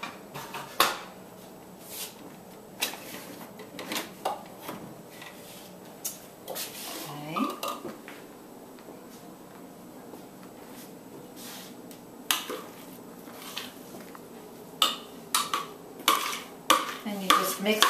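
Stuffed pesto filling being stirred in a bowl, giving a string of soft scraping and sharp clinking taps of a utensil against the bowl, irregular and close, with quiet gaps between bursts.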